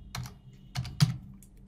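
A URL being typed on a computer keyboard: a few quick, close key clicks spread over under two seconds, with no voice.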